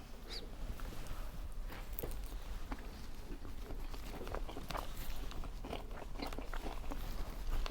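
Crispy chicken wings grilled on a barbecue being bitten and chewed, soft crunches and munching under a steady background hiss, close and continuous, with no talking.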